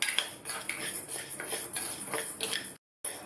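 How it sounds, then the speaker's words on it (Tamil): Urad dal roasting in oil in a kadai over a medium flame, stirred with a metal spoon that scrapes and clinks against the pan in a steady rhythm of close, repeated strokes, with one brief gap of silence near the end. "இதை நல்லா மீடியம் ஃப்ளேமில் வச்சு பொன்னிறமாக வர வரைக்கும் வறுத்துக்கணும்"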